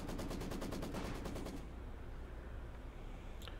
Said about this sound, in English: Alright, another MG's coming forward.